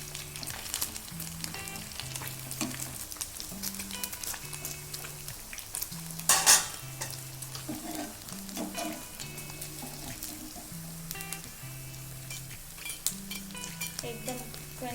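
Paneer cubes frying in hot oil for a crispy chilli paneer starter, a steady close sizzle and crackle throughout with occasional utensil clinks and one sharp metallic scrape midway; no speech.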